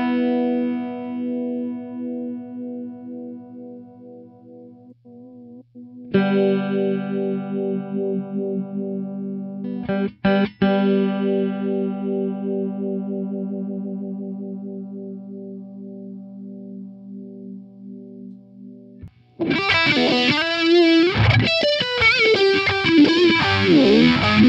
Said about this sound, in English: I'm going to be using the Elements pedal from Dr. Scientist for our overdrive distortion tones.